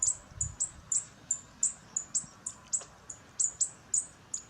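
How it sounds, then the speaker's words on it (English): A bird, apparently a baby hawk being fed by another bird, chirps again and again in short, sharp, high calls at a steady, quick rhythm, fairly close and clear over quiet outdoor background hiss. "another type of bird landed to feed it?"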